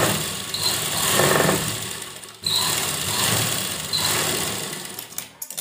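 A sewing machine stitching lining fabric onto a sleeveless blouse, running in steady whirring bursts of about two seconds each with brief pauses between, close and loud, with no talk over it.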